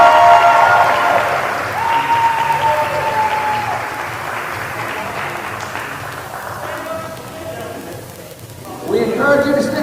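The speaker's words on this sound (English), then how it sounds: "How about one more round of applause for our top 10 finishers?" Applause and crowd noise at the finish of the JFK 50 Mile ultramarathon for the top 10 finishers, a sustained wash of clapping that thins out toward the end, with a voice over it.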